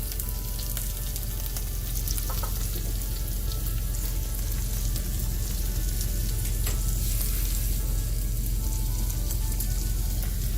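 Chopped tomato, peppercorns, turmeric and coriander powder fry for a Chettinad chicken curry, a steady loud sizzle and hiss running the whole time with faint stirring clicks, and no voices.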